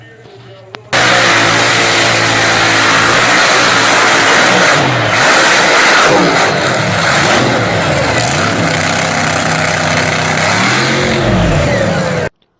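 A tractor-pulling engine, an agricultural engine converted to run on methanol with multi-stage turbocharging, bursts in after a quiet moment and roars loudly, its revs sweeping up and down for over ten seconds before cutting off.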